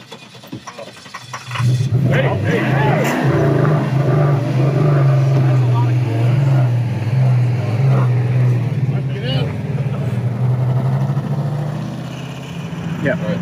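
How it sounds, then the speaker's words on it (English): Damaged car engine with internal damage and smoke from the hood, running loudly on a winter road trip, a steady heavy droning hum that holds for over ten seconds while people talk over it. "This engine really is about to go."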